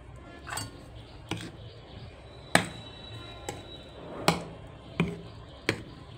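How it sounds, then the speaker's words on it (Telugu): Melted ghee being stirred by hand into urad dal flour and sugar powder, with about six sharp clinks of a utensil against a bowl spaced unevenly, close and clear, and no talking. "ఇదిగోండి నెయ్యి తెచ్చాను, నెయ్యి కరిగించి తెచ్చానండి. ఇప్పుడు ఇందులో వేసుకొని కలుపుకుందాం."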